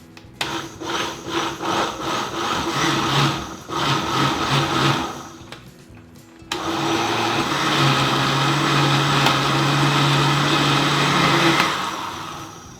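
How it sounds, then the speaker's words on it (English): A countertop blender whirs loudly in bursts, blending tomatoes, basil and other pizza sauce ingredients, pauses briefly, then runs steadily at a high, continuous drone for several seconds before cutting off. "we're going to go ahead and start to blend this all together"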